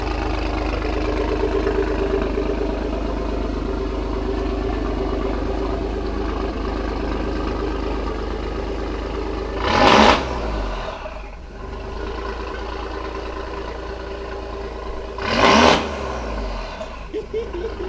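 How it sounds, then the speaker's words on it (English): A tuned Alfa Romeo Giulia Quadrifoglio with downpipe and aftermarket exhaust drones loudly and steadily from inside the cabin, with two sharp bursts of exhaust or turbo whoosh partway through. "Lots of turbo noise."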